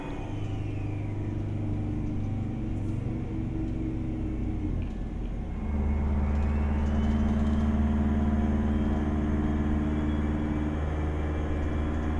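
A 1978 GMC Astro truck engine in American Truck Simulator hums at a steady low drone, dipping briefly near the middle and then returning slightly louder and fuller as the revs settle, with no talking.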